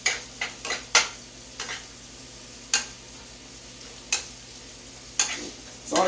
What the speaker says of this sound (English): Now we're going to give these veggies a quick stir.